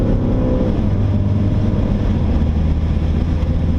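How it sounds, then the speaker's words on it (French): A Mini race car accelerates on a race track, its engine droning loud and steady from inside the cabin with a continuous low rumble. "on prend de la vitesse, là on accélère"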